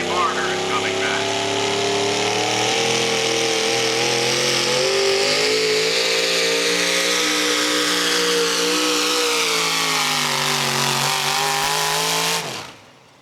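A modified pulling truck's engine roars at a truck pull event, revving hard and holding a loud, climbing tone for about twelve seconds before cutting off abruptly, close and dominant with no clear talk over it.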